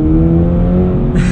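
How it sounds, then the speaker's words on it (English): Toyota GR86 engine revving hard through a second-gear pull on a dry UK road, a loud steady harmonic drone that climbs toward the limiter, with a brief burst of high hiss near the end. "Revs all the way out."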